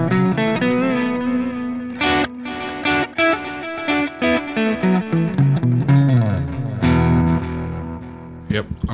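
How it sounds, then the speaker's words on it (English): Electric guitar played through the Neural DSP Archetype Petrucci amp plugin with distortion engaged, a loud continuous run of chords and picked notes with reverb and effects, sounding alone and upfront. "I like that, nice bit of distortion."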